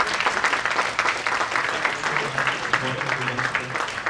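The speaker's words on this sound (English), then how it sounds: "thank you again, and a big round of applause" Audience applause at a rural futures conference on communities, conservation and livelihoods, steady dense clapping from a seated crowd lasting throughout, with a faint voice underneath.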